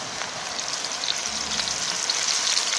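Shredded mushrooms fry in hot oil in a wok with a constant, even sizzling hiss, close and fairly quiet, with no talking.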